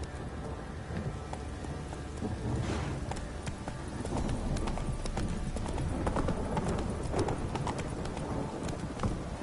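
Horse hooves clip-clopping at a steady gallop in The Witcher video game, a continuous rhythmic patter with rain-like hiss and a faint rumble underneath.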